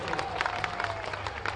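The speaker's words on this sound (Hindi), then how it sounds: "जोरदार ताली बजा करके" A large crowd at a religious padyatra gathering in Mathura clapping together, a steady rapid patter of many hands held at an even level, with some voices mixed in.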